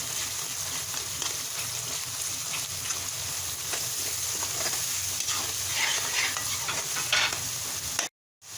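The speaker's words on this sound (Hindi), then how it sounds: "अभी हम थोड़ा सा मसाला भून लेते हैं" Masala paste fries in a pan for a black lentil dish, a loud continuous sizzle with stirring that swells toward the end before cutting off abruptly.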